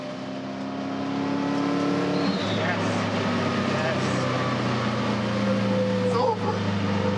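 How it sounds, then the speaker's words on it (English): A rally car at Targa Newfoundland crosses the finish line, its engine droning steadily and swelling as it approaches amid outdoor ambience, with people talking over it. "Here they are, crossing the line."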